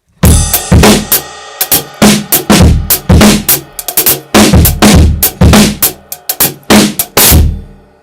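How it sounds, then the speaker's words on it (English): Punchy acoustic drum kit with trigger samples layered on, sharp kicks and snares playing a steady driving rock pattern, loud and close with no talking. "I want to switch to my acoustic drums, utilizing those trigger sounds like this."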